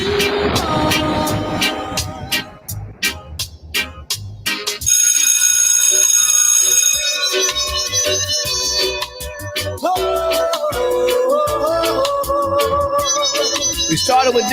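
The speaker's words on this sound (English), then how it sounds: "Let me ring the school bell on y'all real quick." A ringing electronic bell tone, like a school bell, sounds loud and sustained amid dancehall music at a reggae wedding, with a shouting voice over the beat.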